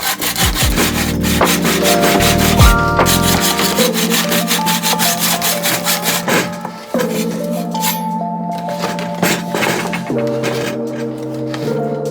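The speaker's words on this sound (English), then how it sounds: "So now I gotta finish the cut with this bow saw." A bow saw cuts through wood from a broken chair in quick, rhythmic back-and-forth rasping strokes, close and loud, with a few pauses and scraping sounds.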